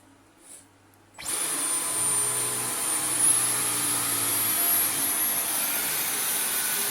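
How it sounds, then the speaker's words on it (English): A Dyson V15 Detect cordless vacuum cleaner starts up after a brief quiet moment and runs across carpet with a loud, steady motor whine and a hiss of airflow that lasts to the end. "let's get cracking with the vacuuming."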